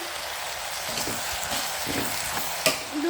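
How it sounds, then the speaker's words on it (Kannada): A bay leaf frying with pulao ingredients in a hot pan, giving a constant close sizzle with scattered stirring taps and one sharp clink near the end, no voices. "ನಾನು ಏನು ಪಲಾವ್ ಎಲೆ ಇಟ್ಕೊಂಡಿದ್ದೆ ಅದನ್ನು ಹಾಕ್ತಿದ್ದೀನಿ"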